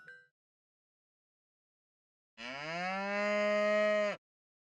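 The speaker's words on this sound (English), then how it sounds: "Mochi hears a loud, familiar moo from outside" A single loud, drawn-out cow moo from the video game Towelket, a rich harmonic bellow lasting under two seconds after a stretch of silence, preceded by a brief faint blip.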